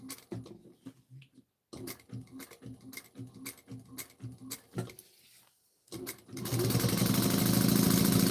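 Sewing machine stitching around bag straps in short repeated bursts of rapid ticking, pausing between runs, close and fairly quiet, with a louder broadband noise taking over near the end.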